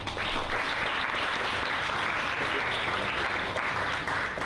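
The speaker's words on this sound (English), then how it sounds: "let's just give a round of applause again to all our winners for today" At an expat entrepreneur awards ceremony, an audience applauds the winners with continuous, loud clapping that holds steady throughout, with no talk over it.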